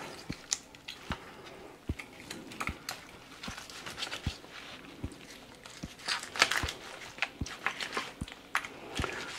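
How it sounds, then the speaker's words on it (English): Knife cutting around the gills and along the backbone of a bass to pull out the guts, heard as a run of sharp clicky crunches and wet scraping, close and fairly steady with no talking. "I cut around the gill and then right where it attaches to the backbone there, and just remove the guts out."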